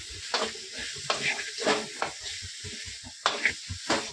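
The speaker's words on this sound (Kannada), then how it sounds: "ಹಾಕ್ಬಿಟ್ಟು ಫ್ರೈ ಮಾಡ್ಕೊಳ್ಳೋಣ." Chicken pieces with coriander leaves frying in a pan: bursts of sizzling and spitting as the spatula stirs, scraping strokes in an uneven rhythm, close and moderately loud.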